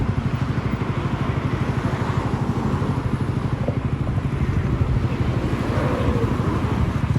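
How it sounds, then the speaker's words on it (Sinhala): A motorcycle passes on a street in Sendai, Japan, its engine a steady, fairly loud drone that holds through the whole stretch, with no talk over it. "අන්න බයික් එකක් යනවා."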